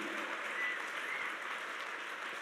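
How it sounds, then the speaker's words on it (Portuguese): A church congregation applauds during a sermon, a steady wash of soft, fairly distant clapping with no voices on top, holding evenly throughout. "Pode aplaudir Jesus, que é isso mesmo."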